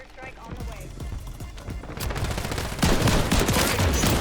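Gunfire in the battle-royale video game Warzone: a burst of rapid shots, loud and close, with a heavier volley near the end.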